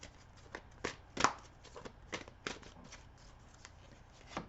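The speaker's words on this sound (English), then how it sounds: "So let's pull one more card here from the fairy deck." Fairy oracle card deck being shuffled by hand with a card pulled out, soft close riffling and flicking sounds in an irregular run, quiet and alone.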